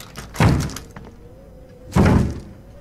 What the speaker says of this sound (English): Someone was, like, kicking on that door